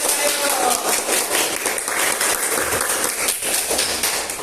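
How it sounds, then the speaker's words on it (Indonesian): A group claps hands in dense, rapid applause, loud and steady throughout, with no gaps. "Ya, tepuk tangan."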